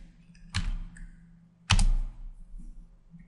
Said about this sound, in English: So this is the old school way of setting up a function, just going in and typing it out.